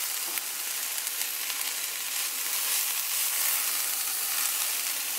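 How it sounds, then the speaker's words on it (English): Scrambled eggs fry in a pan for chicken pad thai, giving a steady, close, even sizzle with faint crackles throughout and no voices. "Now we're gonna scramble them up and let them cook."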